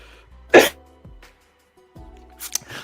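One sharp, loud cough bursts out up close, followed by quieter throat noises and a brief second cough near the end.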